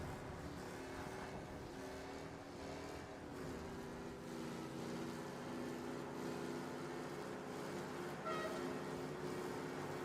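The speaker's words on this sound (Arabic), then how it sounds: "بس اهدى بقى الموتور" Car engine in the video game Mafia, a steady droning hum with shifting harmonic pitch as the vehicle accelerates during a race, continuous and fairly loud throughout with no talk.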